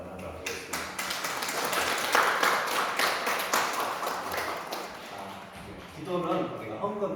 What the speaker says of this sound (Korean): 우리 한영과 감사의 박수 한번 하도록 하겠습니다.